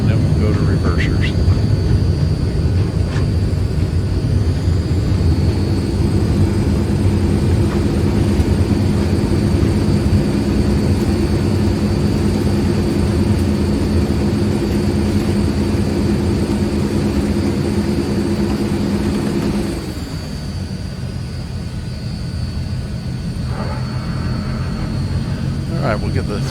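Simulated C-160 transport aircraft rolling out on the runway after landing in Microsoft Flight Simulator 2020, a steady loud turboprop drone that drops away near the end as the reversers and rollout wind down.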